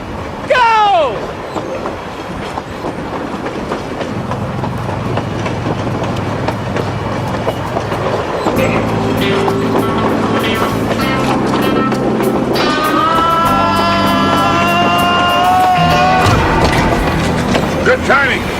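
A speeding train rumbles and clatters loudly and continuously up close, with metallic rattling and a rising musical tone layered over the rolling noise.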